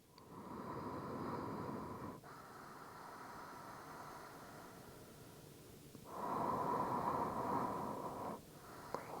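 Controlled breathing during a dynamic yoga flow: long, steady airy breaths in and out, close and clear, in repeated cycles with brief pauses between them and no talking.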